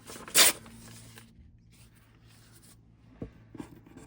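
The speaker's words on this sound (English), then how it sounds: "So when it rips with the grain, it's going to rip straight." Paper from a book cover print rips along the grain in one short, sharp tear up close, followed by quiet handling and a couple of small rustles and taps.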